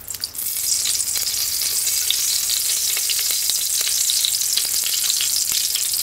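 Oil sizzles loudly and steadily in a pot while goat or mutton curry cooks, a dense, constant hiss with faint crackles throughout and no voices.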